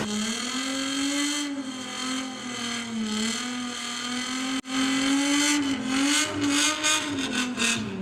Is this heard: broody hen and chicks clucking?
no